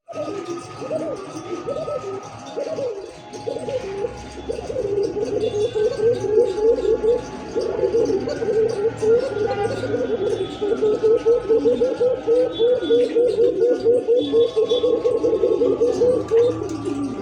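Pigeons of an Arabian breed coo steadily in a bird market, a female calling in repeated low rolling phrases that grow louder and more continuous after the first few seconds, with faint background chatter.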